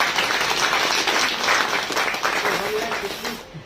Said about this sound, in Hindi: उस परमपिता परमेश्वर के लिए एक बार जोरदार ताली बजा दो